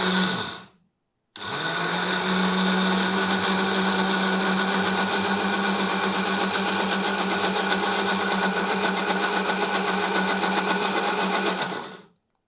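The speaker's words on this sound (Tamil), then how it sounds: "கொஞ்சம் கொஞ்சமாக தண்ணி விட்டு நம்ம அரைச்சிக்கலாம்" A mixer grinder runs steadily for about eleven seconds, grinding pearl millet with a little water, with a loud, even motor whine and churning. It comes after a brief start and a short pause, and stops cleanly.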